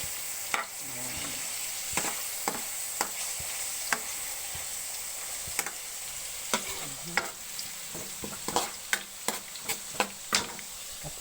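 Hotdogs frying in a pan with garlic and onion for fried rice: a steady sizzle throughout, broken by frequent sharp spatula clicks and scrapes, close and fairly loud.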